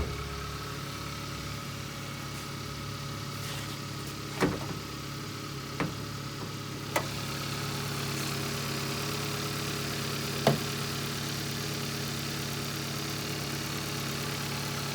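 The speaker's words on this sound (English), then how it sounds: "We'll go ahead and start the engine" A 2016 Hyundai Accent with a 1.4-liter engine idles at a steady, even hum throughout, broken by a few faint clicks and taps, with no talking.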